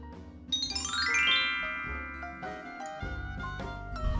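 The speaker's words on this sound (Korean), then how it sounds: "누가 초인종을 울렸는데?" A doorbell chimes in a home, a bright multi-note ding-dong ringing out and ringing on, with further tinkling tones following over a low background.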